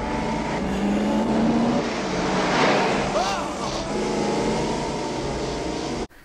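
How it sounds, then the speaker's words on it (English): A car speeds through the Back to the Future Part II chase scene, its engine roaring and revving up close for several seconds before cutting off abruptly, with voices talking over it. "Biff whips a car around."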